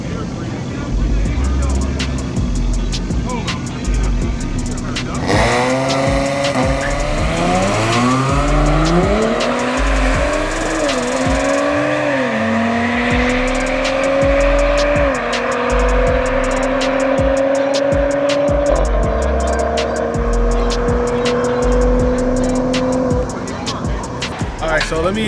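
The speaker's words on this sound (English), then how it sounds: "Corey, and he's driving this here A6 right here, modified." A modified Audi A6 accelerating hard on a race track, its engine note climbing through the gears in loud rising sweeps, recorded from inside the car.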